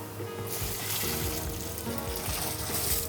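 Slightly warm water pours into a large commercial bread mixer holding hot cross bun dough with butter, a steady broad splashing rush lasting the whole moment, with low mechanical hum and faint clatter beneath.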